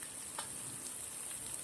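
Salt, red chili and turmeric sizzle in a pan for Afghani baingan masala, giving a steady, close hiss of frying with no voices.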